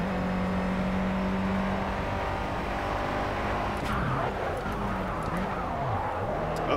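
Renault Clio Cup race car at Imola in the game Project Cars, heard from the interior: a steady, loud engine drone that swings up and down in pitch through downshifts and corner exits, continuous without any voice.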